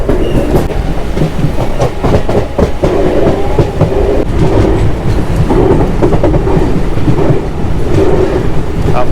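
Diva-Roha MEMU train rolling along in heavy rain, a steady loud rumble of wheels and carriages with rhythmic clickety-clack over rail joints throughout, no voices.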